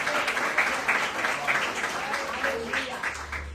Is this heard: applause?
yes